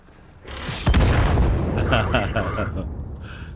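A tank shell strikes the player's tank in World of Tanks during a tier 6 battle. A loud, deep boom hits hard and then rolls into a long rumbling tail. Near the end, faint talk sits under the fading blast.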